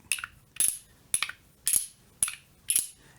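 Fidget slider partly muted with tape, snapping back and forth in six sharp, bright clicks at a steady rhythm about half a second apart, close and alone.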